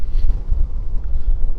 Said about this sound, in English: So I made it to the first tarn, and it's a little bit windy.